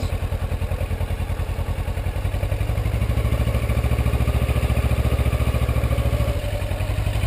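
A motorcycle engine chugs steadily at a low idle-like pulse, loud and close, rising slightly in pitch and load as the bike starts to roll, with no talking.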